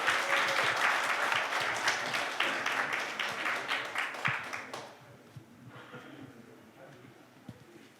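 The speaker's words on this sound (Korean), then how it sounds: "들어오실 때 크게 박수 쳐주시면 발표에 더 힘을 얻으실 것 같습니다." An audience at a Korean lecture contest in Ulsan applauds presenters walking in, a full lively round of clapping that cuts off abruptly midway, leaving a quiet room with a few stray claps and faint stirring.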